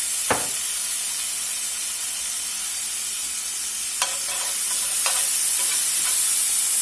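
Minced garlic hisses softly in a hot pan with seared steak bites for Cajun steak bites: a steady, faint sizzle throughout, with a few brief stirring scrapes near the end and no talking.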